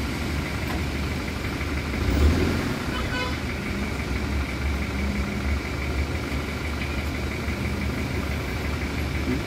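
Car engines idle in heavy, stalled road traffic as a continuous low rumble, with a brief louder engine surge early on.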